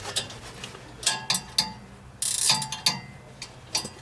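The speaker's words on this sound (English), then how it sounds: "pull out our 10mm wrench" A 10mm wrench tightens the nut on a Honda snowblower auger shear pin, giving a series of close, irregular ratcheting clicks and metallic ticks, with one longer burst of scraping in the middle.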